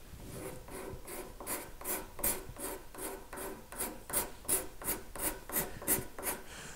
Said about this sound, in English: the card scraper that has a nice little burr on that edge.